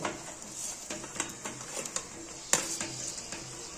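Masala-coated fried baby potatoes go into a kadai for Kashmiri aloo dum and are stirred, with scraping and clinking spoon-on-metal hits over a light sizzle, one sharper knock midway.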